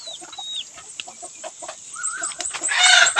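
Chickens cluck in short bursts while a rooster crows, with high chirps over a noisy farmyard that grows louder toward the end.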